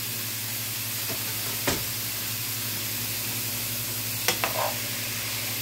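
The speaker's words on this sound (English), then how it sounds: "just continue to stir fry it" Chopped vegetables and onion stir-fry in a pot for a chunky soup, giving a steady close sizzle throughout, broken by a few sharp scrapes or knocks of a stirring utensil.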